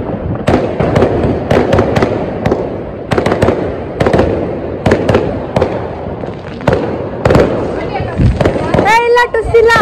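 Diwali firecrackers bursting one after another at a family celebration, loud sharp close bangs in an irregular run with people chattering between the blasts.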